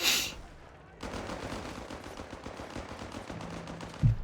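Maxim machine gun firing in Company of Heroes 3, a rapid continuous rattle of shots after a brief quiet gap, with battle noise and a heavy thump near the end, fairly close.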